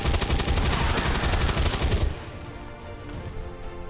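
Automatic weapon fire in the tactical game XCOM 2: a loud, rapid burst of shots for about two seconds, then it cuts off and leaves a quieter rumbling ambience.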